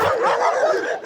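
Several dogs bark loudly and excitedly in South America, their overlapping yaps and barks forming a continuous, close-up clamour.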